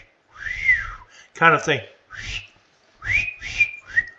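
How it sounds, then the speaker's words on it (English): A person whistles several short rising and falling notes, a wobbly attempt ending in quick chirpy wolf-whistle-like slides, with a brief spoken remark in between. "I can't whistle very well."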